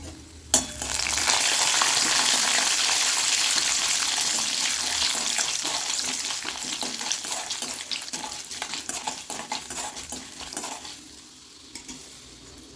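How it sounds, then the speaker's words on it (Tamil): Chana dal, mustard seeds and pepper fry in hot oil for an upma, a loud, steady crackling sizzle close by that begins with a sharp pop and eases slightly toward the end, with occasional stirring clicks. "இப்போ நம்ம இந்த கடலைப்பருப்பையும் சேர்த்துக்குவோம்."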